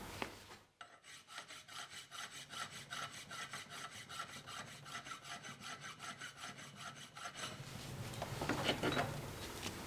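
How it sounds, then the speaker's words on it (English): A number 3 metalworking file is drawn over a metal surface to smooth it, giving a steady series of close rasping strokes with no talk, followed by brief clattering handling noise at the end. "we're going to use the number 3 file to provide a nice smooth surface for us."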